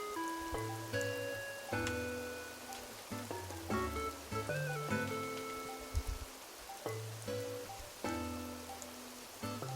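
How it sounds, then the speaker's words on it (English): Rain in the Animal Crossing: New Horizons video game, a soft, steady patter heard faintly under a quiet melodic game soundtrack of plucked, tonal notes. "This is a rainy day today."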